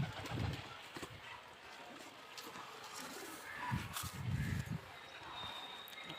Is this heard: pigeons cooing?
yes